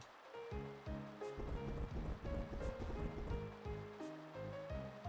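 Steady rain in the Pokemon Platinum video game, a constant soft hiss running beneath looping game music with a clear melody and bass notes.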